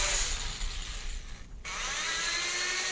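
Brass .300 Win. Mag. rifle cartridge case mouth deburred by hand with a tool, a close, steady scraping and grinding that briefly stops for a moment and then resumes.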